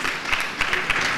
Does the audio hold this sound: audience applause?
yes